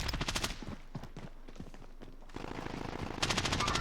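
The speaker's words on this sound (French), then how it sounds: "On tire dessus." Rapid automatic gunfire bursts in a video game, loud and dense at the start and again near the end, with scattered single shots and faint footsteps in between.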